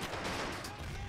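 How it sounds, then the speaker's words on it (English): A big explosion in a multiplayer tank-battle video game: a dense, sustained blast that fills the whole short moment, loud and steady without any quiet gap. "Ooh, big explosion."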